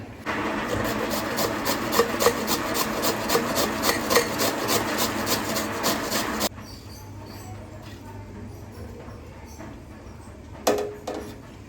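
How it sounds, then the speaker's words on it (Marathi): Amla (Indian gooseberry) being finely grated by hand, a steady rhythmic rasping of strokes that runs for several seconds, then stops, leaving quieter kitchen background with a brief knock near the end. "आपला आवळा बारीक करून झाला आहे बारीक म्हणजे मी त्याला किसला आहे"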